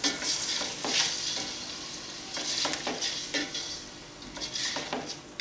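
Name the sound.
chicken and masoor dal frying in a pot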